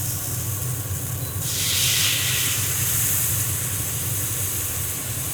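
Broccoli dropped into a hot oiled pan with a splash of water sends up a sudden loud sizzling hiss of steam, swelling after a moment and then holding steady and close, with no talk.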